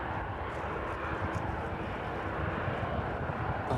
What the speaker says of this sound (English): We've got aircraft just landed in there